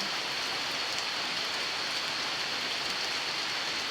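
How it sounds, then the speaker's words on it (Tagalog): Heavy rain pours steadily onto leaves and ground, a constant dense hiss of drops with no pauses. "medyo malakas-lakas din yung ulan nasa mga tanim natin."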